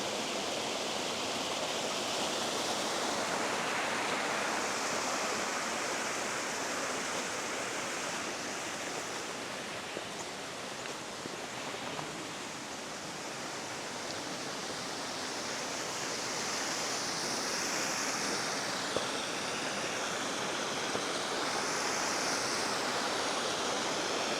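A steady, loud rush of flowing water fills the whole stretch, an even broad hiss like a nearby stream or small falls in an Appalachian woodland garden in North Carolina, with no voices.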